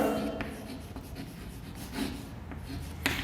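Chalk or pen strokes on a classroom board during a maths lesson on triangles, a steady scratchy rubbing with a few sharper taps, close and fairly loud, with no speech over it.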